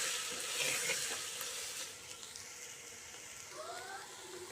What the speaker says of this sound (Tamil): இப்போ நம்ம உப்பு சாம்பார் மிளகாத்தூள் நல்லா கிளறி விட்டுருவோம்